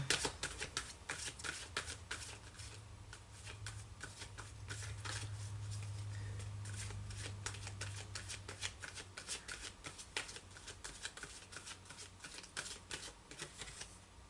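Archangel oracle cards are shuffled by hand in a quiet room, a rapid run of papery riffles and slaps repeating steadily with short pauses, close and fairly soft.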